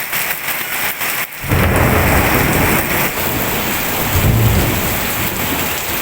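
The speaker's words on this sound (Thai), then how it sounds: "มีแต่เสียงฟ้านะตอนเนี้ย" Heavy rain pours steadily while low thunder rumbles and rolls through during a lightning storm with little wind, loud and continuous with no voices.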